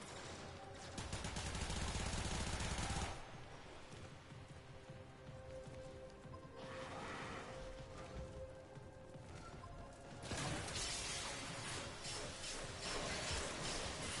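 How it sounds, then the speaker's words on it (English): Exalted Blade energy blades fired in rapid bursts at an enemy in a video game, a dense crackling, rattling barrage loud for the first three seconds, quieter mechanical clatter in between, then another sustained burst near the end. "What you see is me shooting blades at this guy."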